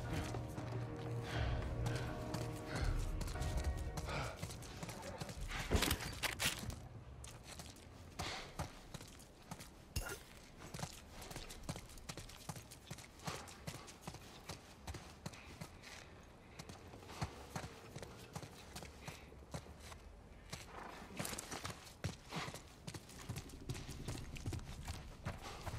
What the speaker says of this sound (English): Let's get back to the horses.